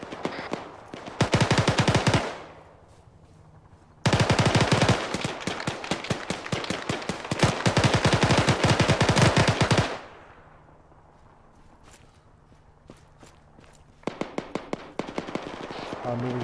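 Video game gunfire from Arma 3 in a military combat mission: loud sustained automatic bursts of rapid shots, two long volleys separated by a pause, then a quieter stretch before another short burst of shots.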